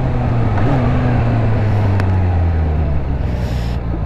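Suzuki Bandit motorcycle exhaust heard while riding, a loud steady engine drone that dips slightly in pitch, mixed with strong wind rush, no talk.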